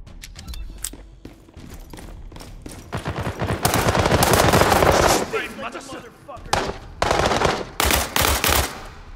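Bursts of automatic rifle and machine-gun fire from the military shooter World War 3 come close and loud, with a sustained volley in the middle and scattered shots after it.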